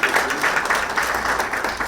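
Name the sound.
audience applause at strategy launch event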